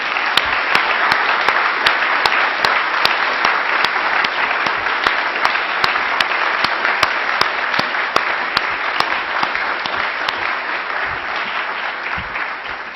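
A university audience at an Oculus VR talk claps loudly and steadily for several seconds, a dense, sustained round of applause that tapers only slightly near the end, with no talk over it.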